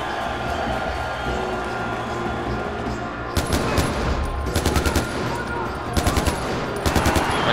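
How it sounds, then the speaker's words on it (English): Bursts of automatic gunfire in the shooter game Far Cry 4, several rapid volleys starting midway over a dense background of game noise, with crowd-like cheering under them. "I tried shooting the explosive barrel, but missed"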